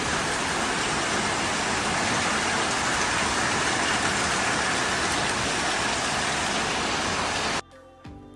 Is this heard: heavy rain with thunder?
yes